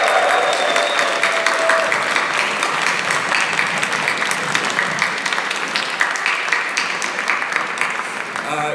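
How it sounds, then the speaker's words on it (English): A hackathon audience at HackCambridge bursts into loud, sustained applause and cheering for the organisers, a dense crowd of clapping hands that continues steadily throughout. "make a huge round of applause after 3 for the organisers"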